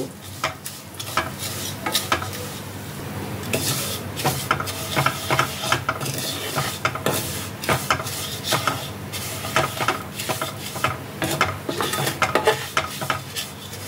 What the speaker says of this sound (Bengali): ঘিটা গরম হয়ে গেছে, এর মধ্যে আমি দিয়ে দিচ্ছি সিমুই। সিমুইটাকে ঘিয়ের মধ্যে আমি ভালো করে রোস্ট করে নেব।